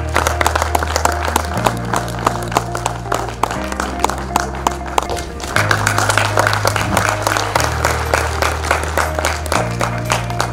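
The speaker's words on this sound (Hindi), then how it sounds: "जोरदार तालियों से स्वागत होता रहे।" Audience applause at an award ceremony in India, dense steady clapping filling the space over loud music with a pulsing bass line throughout.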